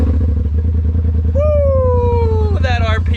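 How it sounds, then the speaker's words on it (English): A Kawasaki KRX 1000 side-by-side fitted with an RPM exhaust runs loud and close, its deep engine drone steady throughout while a voice lets out a long whooping shout over it. "That RPM exhaust, baby."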